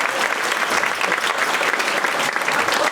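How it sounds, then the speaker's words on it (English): Dense, steady applause from a live comedy show audience in Vilnius, filling the whole stretch at close range with no break and no talking over it. "round of applause for this guy"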